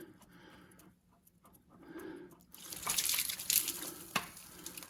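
Coolant spills from the engine block heater port of a TYM T474 tractor with a Kukje engine: a faint trickle at first, then a louder, steady splashing pour through the second half.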